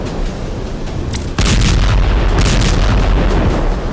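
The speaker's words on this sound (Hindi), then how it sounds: "आईडीएफ फोर्सेस ने पीआईजे के हथियार गोदाम को बम धमाकों में नष्ट कर दिया।" A bomb blast tears through a weapons depot in war footage, a sudden loud boom about a third of the way in followed by a sustained heavy rumble and roar that carries on without letup.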